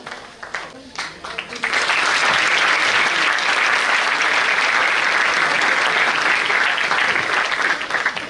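An audience at a motivational seminar breaks into loud, sustained clapping after a brief moment of a voice, and the dense applause holds steady to the end.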